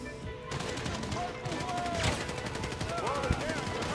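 Rapid automatic gunfire in the video game GTA Online, a dense steady rattle of shots with a heavier blast near the end, while people talk excitedly over it.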